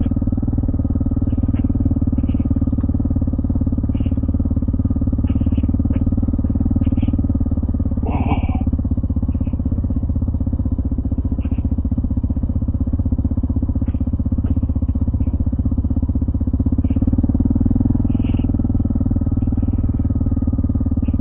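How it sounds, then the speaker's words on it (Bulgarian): A motorcycle engine drones steadily and loudly throughout a ride over the Rusaliyski mountain pass, with wind rumble and faint clicks and clatter over the continuous roar. "Мята този мотор, мята като прани гащи."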